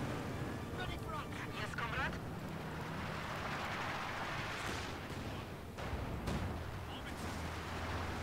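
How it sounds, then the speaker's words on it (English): Company of Heroes 2 howitzer artillery firing on a battlefield: distant heavy booms and rumbling bursts over a constant wash of battle noise, with a voice talking through it. "Howitzer."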